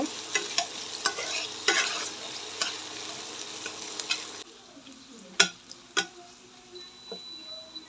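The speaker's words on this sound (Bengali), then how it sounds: "আগে থেকে পেঁয়াজ রসুন কাঁচামরিচ কুচিয়ে রাখছিলাম ওইটা এখন ভালো করে নেড়ে দিব" Chopped onion, garlic and green chili stirred as they fry in oil, with a steady sizzle and repeated sharp scraping clicks of the spoon against the pan, louder at first and then quieter with sparser stirring knocks.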